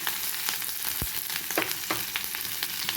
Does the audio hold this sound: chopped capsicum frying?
yes